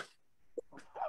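One faint, brief sneeze indoors, quick and soft in a quiet room.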